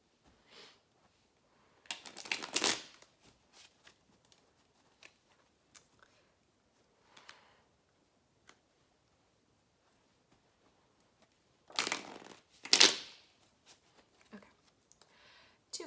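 Tarot cards shuffled and drawn, two short bursts of crisp riffling card flutter separated by long near-silence with faint small clicks, close and quiet.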